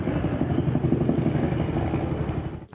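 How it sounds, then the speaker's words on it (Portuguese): A police helicopter over Rio das Pedras and Muzema in Rio de Janeiro beats overhead with a loud, continuous low rotor chop that fills the whole stretch without letup. "A polícia foi acionada e foi para a região de Rio das Pedras e Muzema com um helicóptero."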